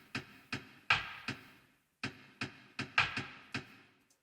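Thin, crisp hi-hat hits with reverb and stereo spread, one layer pitched down an octave, tick out alone in a loose rhythmic pattern with short decaying tails and a brief pause midway.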